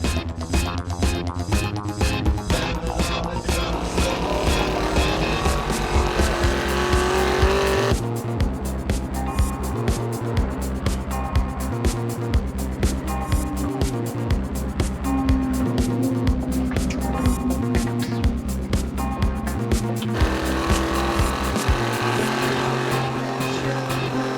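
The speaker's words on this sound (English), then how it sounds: "It's a very, very good car, and Jim drives it very hard and very well." GT race cars at Lime Rock roar hard and loud, engines revving up and down through gear shifts with some tire squeal, one car passing close after another.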